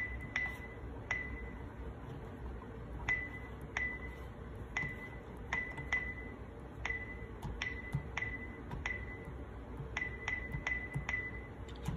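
A phone sounds a series of faint, bright notification pings at uneven intervals over quiet room tone, with no one talking.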